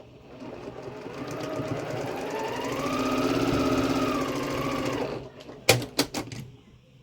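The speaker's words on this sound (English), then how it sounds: "And now we're going to sew this middle row." A sewing machine runs steadily for about five seconds while stitching a seam on a quilt block, its motor humming and pitch rising slightly, then stopping, followed by a few sharp handling clicks nearby.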